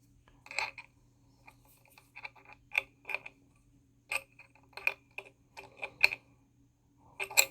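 Two spanners tighten parts on a split tire trimmer, giving a quiet scatter of sharp metallic clicks and taps, some in quick clusters, against a faint low hum and no speech.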